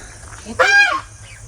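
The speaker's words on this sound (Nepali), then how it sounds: "हाँसहरू खेल्दैछ" A single loud, nasal duck quack close by, short and abrupt, with quiet before and after.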